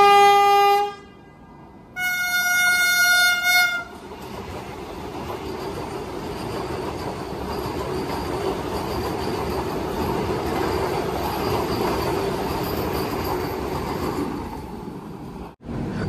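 A Konkan Railway Mandovi Express in the monsoon opens with two loud horn blasts, then a steady close rumble and rattle of wheels and carriages that runs almost to the end.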